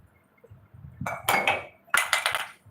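Dishes or pots clatter as something drops, two sharp bursts of metallic clanking and clinking close by, the second following about a second after the first, over a quiet room.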